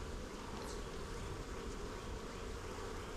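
Honeybees buzzing around a Flow Hive, a dense, steady hum of many insects close by, unbroken and even throughout.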